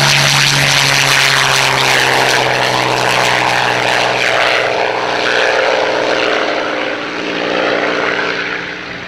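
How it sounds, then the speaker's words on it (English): Rolls-Royce Merlin piston aircraft engine running at Old Buckenham airshow, a loud, steady, deep growling drone with a strong low hum that holds close for the whole stretch, with no voices. "One of the nicest things is starting the engine and hearing that Merlin growl."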